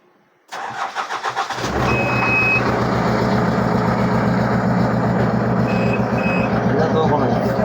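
A JCB backhoe diesel engine cranks and catches, then settles into a loud, steady mid-pitched idle with a rhythmic chug, and a high beep sounds briefly as the back bucket is lifted.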